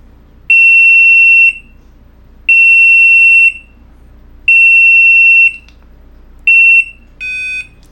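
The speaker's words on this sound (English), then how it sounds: "the alarm will sound for 15 seconds to help you locate it" An Eesens Guardian bike alarm in locator mode sounds a loud, piercing electronic beep in four evenly spaced one-second bursts, then a shorter chirp pair at the end. A low hum runs steadily underneath.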